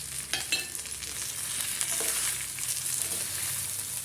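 Sabudana khichdi, tapioca pearls with chopped coriander, being stirred in a frying pan, giving a steady close sizzle with soft scraping strokes throughout.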